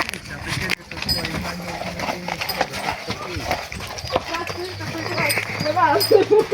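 A mare's hooves clop unevenly on hard ground as she is led toward a vehicle while people talk nearby, with scattered thuds and movement throughout.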